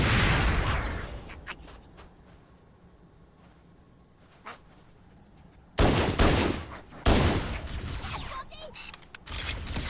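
A grenade blasts among jackals in Halo: Combat Evolved Anniversary on the Silent Cartographer mission, on Legendary difficulty. After quiet background gunfire, two loud booming bursts hit close together, followed by more sharp gunfire.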